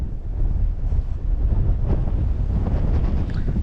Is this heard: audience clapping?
no